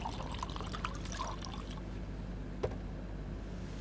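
Drinking water pours into a glass or cup, a close, continuous splashing rush that fades into quieter hiss, with one small sharp tap near the end.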